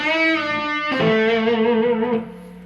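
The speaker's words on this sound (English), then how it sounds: "Now we'll put overdrive on the guitar and then do flips with a dirtier sound." An electric guitar with overdrive distortion rings out a sustained note, then shifts pitch into another held, gritty tone that cuts off near the end.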